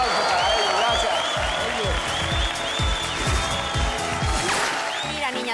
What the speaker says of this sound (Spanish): Un aplauso para ellos, gracias